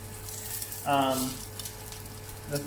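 Noodles frying over high heat at a Hanoi noodle shop, a close, steady sizzle with a brief louder hissing swell midway, set against a constant low hum.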